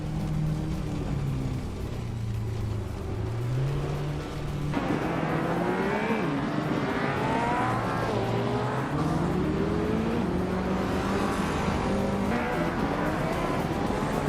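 A Peugeot 205 T16 Evo 2 turbocharged rally car engine howls through a racing game, revs climbing and dropping through gear changes, loud and sustained with other engines and tyre noise around it.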